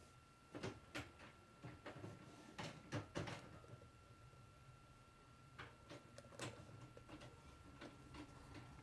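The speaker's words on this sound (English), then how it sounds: "That's my printer." A home printer running, with faint clicks, clunks and feeding sounds in an uneven series, quiet and close in a still room.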